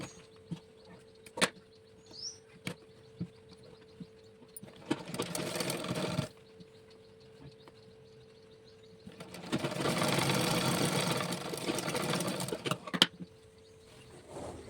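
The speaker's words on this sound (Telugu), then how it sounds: "రెండో సైడు అలాగా కుట్టేసుకుంటున్నాను" Sewing machine stitching the second side of Punjabi dress pants, two bursts of steady running stitching with quiet handling clicks between them, close and fairly loud.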